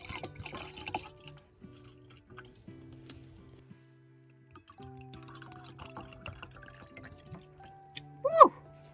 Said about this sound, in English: I actually have my little bottles of wine I'm about to pour out